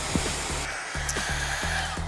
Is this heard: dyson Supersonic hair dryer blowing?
yes